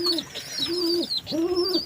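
Repeated high, whistling calls in a steady rhythm, close and clear, with low coo-like tones underneath.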